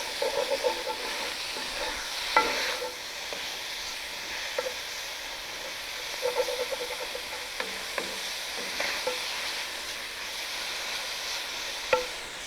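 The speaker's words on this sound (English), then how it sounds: "So we are going to cook the bacon probably, you know, third to halfway through." Bacon sizzles steadily in a Dutch oven with a little extra fat, a close, continuous frying hiss broken by occasional clicks and scrapes of stirring.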